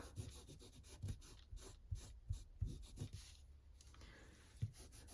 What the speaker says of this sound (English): I will give that a little bit of a rub. Take any off.